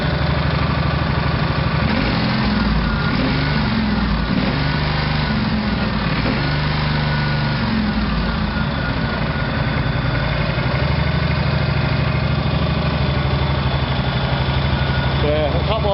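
A Honda engine on a Countax ride-on mower idles steadily and close while warming up, a constant buzzing hum with a slight rhythmic vibration, unchanging throughout.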